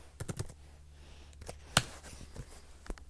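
Light computer-keyboard typing, a handful of soft, uneven key clicks with one sharper tap, quiet and close, entering a custom label.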